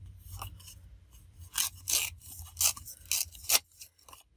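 Vintage paper torn by hand for a collage, a run of short dry rasping rips, five or six close bursts of varying length with quiet pauses between them, near and alone with no talk.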